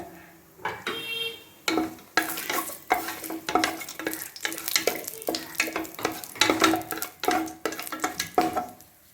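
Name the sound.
cinnamon, cloves and bay leaf frying in hot ghee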